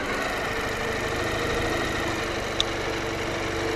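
A Ural motorcycle engine runs at a steady, even idle, a continuous low rumble that holds at one level throughout, with one brief click near the end.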